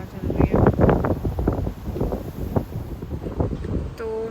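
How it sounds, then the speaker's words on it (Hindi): Strong wind gusts buffet the microphone in an empty park, a loud rough roar surging and easing throughout, with a faint voice briefly under it near the end. "बहुत ज़्यादा हवा चल रही है"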